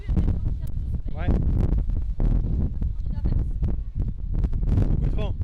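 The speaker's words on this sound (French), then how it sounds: "Beaucoup de vent." Strong wind gusting hard against the microphone at a lighthouse on the Australian coast, a loud, continuous roar with buffeting bursts, with people talking over it.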